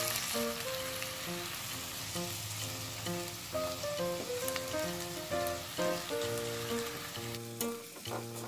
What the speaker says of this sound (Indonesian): Sekarang ikannya saya masukkan dan ini akan saya tumis sebentar.